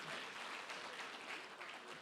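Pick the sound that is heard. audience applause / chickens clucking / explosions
audience applause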